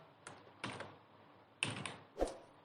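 Several separated clusters of computer keyboard keystrokes sound close and crisp while a web address is entered, with short pauses between the bursts of clicks.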